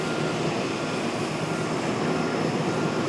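An airplane landing at Charlotte airport makes a steady, loud broadband jet roar that holds evenly through the whole short stretch, with no voices.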